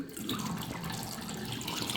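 Water gushing steadily from a household tap, running muddy and brown, a continuous close splashing flow with no pauses.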